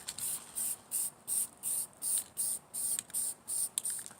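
A spray can laying a second coat of paint onto a garage logo, about a dozen short, even hissing bursts in a steady rhythm, close and clear with no talk.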